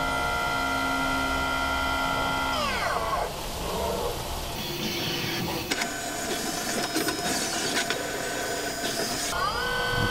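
Cutting a chamfer on the back of the front buttonhole of a GoPro case, a steady loud machine whine with tonal sweeps as the cutter engages, shifting pitch partway through and running continuously throughout.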